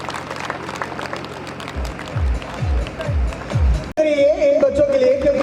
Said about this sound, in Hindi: कृपया तालियों के साथ बच्चों को प्रोत्साहित करते रहें